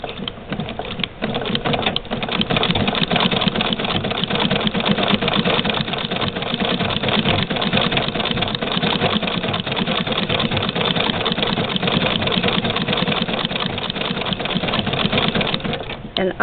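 1901 White Family Rotary sewing machine running with a White Rotary zigzagger attachment, a loud, steady mechanical whirring and rapid clatter that holds for the whole stretch before easing near the end.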